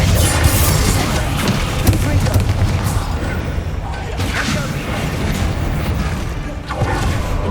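A Bombarda blasting spell explodes in Hogwarts Legacy: a dense, sustained rumbling blast with crashing debris that stays loud throughout, with voices speaking over it.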